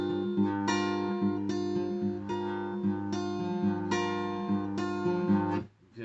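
Acoustic guitar in D standard tuning plays plucked notes and chords in a repeating rhythmic pattern, close and clear, with ringing sustain between attacks, ending in a brief muted stop.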